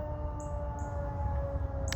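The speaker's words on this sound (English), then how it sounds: "They do tornado siren tests here on Wednesdays." A weekly Wednesday tornado siren test, a steady sustained wail droning far off under a quiet room tone, with a couple of faint high chirps over it.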